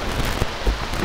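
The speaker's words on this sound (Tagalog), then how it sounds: "So talagang grabe ang ulan." Heavy rain falls at sea on an early morning, a dense close hiss with low rumbling gusts and thumps, steady for the whole brief stretch, no talking.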